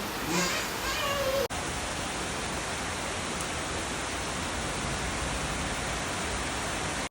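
Steady, dense rain pouring down during a family visit, a constant even hiss that fills everything after a few seconds of voices at the start, with no break in intensity.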